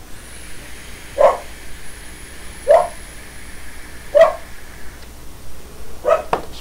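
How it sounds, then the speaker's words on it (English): A dog barks four times in the room, single loud spaced barks about every one and a half seconds, with a faint steady hum and a tone in the background. "She's going to bark."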